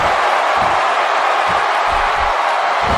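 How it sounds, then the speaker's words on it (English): A wrestling arena crowd cheers in a dense, continuous wall of noise, loud and steady for the whole stretch, with no voices standing out. "by the sound of this crowd"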